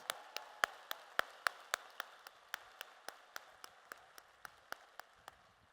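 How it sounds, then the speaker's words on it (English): Graduates receiving bachelor's degrees from a School of Human Ecology at a spring commencement are met with faint, steady clapping, sharp even claps ticking off at a brisk regular pace from a distance, with no voices over it. "let's give them a big round of applause"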